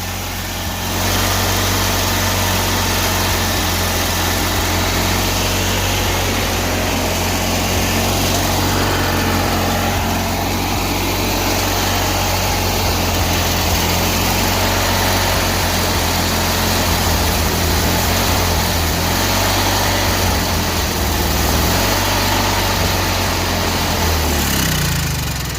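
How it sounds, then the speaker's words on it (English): A 1984 Agway 1842 lawn tractor built by Murray runs steadily on its own carburetor, a loud close continuous small-engine drone with no talking. "So that fired on its own carburetor."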